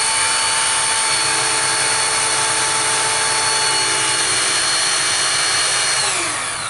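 A Hurst E-Draulics hydraulic rescue tool spools up under throttle, producing a loud, close, sustained whine with steady tonal lines that holds throughout and eases off slightly at the end.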